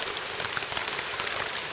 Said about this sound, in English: Yeah, that's definitely the sound of monsoon going on.